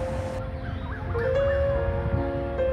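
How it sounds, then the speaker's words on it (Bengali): Birds call around a lotus pond at Rabindra Sarobar lake in Kolkata, with repeated warbling and whistled notes rising over a steady low rumble of wind and city background. "চারিদিক পাখির ডাকে মুখরিত।"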